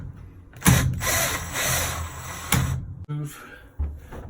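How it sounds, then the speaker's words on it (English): A power drill fitted with a 1/4 inch nut driver backs out screws on a Whirlpool washer cabinet, giving close, loud whirring bursts separated by short pauses, with a few handling clunks. "Take your 1/4 inch nut driver or drill with 1/4 inch and remove the screws one at a time."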